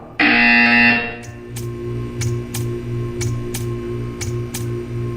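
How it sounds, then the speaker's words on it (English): A loud electronic buzzer in Portal sounds for about a second, then a steady hum continues with repeated short ticking pulses at a regular pace. "You will hear a buzzer."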